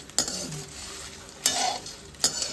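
Whole spices for Kolhapuri masala roast in oil, a soft continuous sizzle broken by three sharp stirring scrapes of a spoon against the pan.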